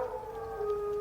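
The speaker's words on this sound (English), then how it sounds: "No, a wild dog." A wild dog howls in a radio drama, a single sustained, wavering tonal cry lasting about a second, heard alone and fairly faint as if from a distance.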